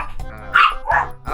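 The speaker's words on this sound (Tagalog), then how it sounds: "Marami kasing aso dito." Several dogs bark in a few sharp, loud bursts close by, somewhere outdoors during a lockdown while a whole pig is being prepared for roasting.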